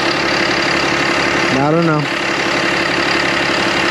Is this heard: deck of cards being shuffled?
no